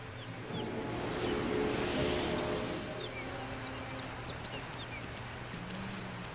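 Birds chirp and chatter in Okami's ambient game soundscape, small calls scattered across the clip over a steady low hum, with a swell of noise early on; no one talks.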